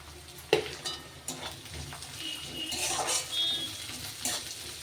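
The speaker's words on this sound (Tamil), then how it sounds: "வெங்காயம் போட்டுட்டு நல்லா கோல்டன் ப்ரௌன் வதக்கலாம்" One large chopped onion sizzles in hot oil in a pan while being browned for a dhaba-style bottle gourd and lentil kootu, with a steady frying hiss and occasional clinks and scrapes of stirring.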